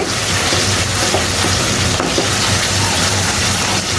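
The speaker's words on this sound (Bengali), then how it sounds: "তো খুব ভালো মতো করে এটাকে আমি একটু কষিয়ে নিচ্ছি" Goat meat sautéed with spices hisses loudly and continuously in a village-style pot while being stirred, with dense close sizzling and occasional scraping knocks, with no talk.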